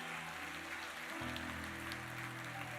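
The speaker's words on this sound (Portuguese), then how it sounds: "Erga suas mãos, aplauda o nome de Jesus e alegre-se com Ele" A church congregation applauds in a dense, steady wash of clapping, fairly soft and continuous, with sustained keyboard or organ tones playing underneath.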